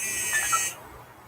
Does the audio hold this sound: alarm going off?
yes